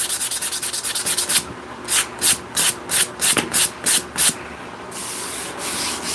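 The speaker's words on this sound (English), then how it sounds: "we're gonna keep sanding" A bowling pin is being sanded with small 3-inch sanding pads: a rapid train of short scratchy strokes, then a run of separate louder rubs in a steady rhythm, close up and alone, ending in a sustained grinding rub.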